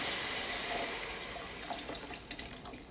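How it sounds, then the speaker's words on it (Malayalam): Kudampuli (Malabar tamarind) soaking water poured into a spiced fish-head curry, a continuous splashing stream that eases into lighter irregular splashes and drips toward the end. "ഇത് നമ്മുടെ ഉടമ്പുളി വെള്ളത്തിലിട്ട് ഒഴിച്ചു കൊടുക്കാം"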